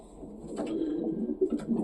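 Pigeons coo softly inside a pigeon loft, several low rolling calls overlapping close by at a modest level.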